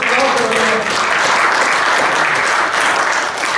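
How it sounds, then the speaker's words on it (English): A church congregation claps loudly and continuously during a sermon on the good news of the gospel, a dense, even wash of many hands with voices mixed in beneath. "Give God another clap."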